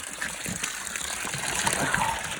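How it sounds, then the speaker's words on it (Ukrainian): Water gushes steadily as a pump drains a flooded garage basement, a continuous rushing, splashing wash at moderate level with no voices. "наш насос качає за майже годину."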